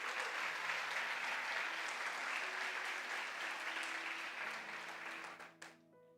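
A church congregation applauding during an evening service, dense sustained clapping from many hands that fades out at the end.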